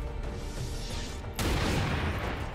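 Gunfire from the tactical video game XCOM 2 with the Long War 2 mod, a dense steady crackle of shots that jumps to a louder, fuller burst partway through, with no talking.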